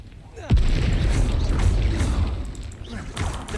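A Bombarda explosion spell in Hogwarts Legacy bursts with a sudden loud boom, then a sustained rumbling, crackling tail that fades slowly under ongoing game noise.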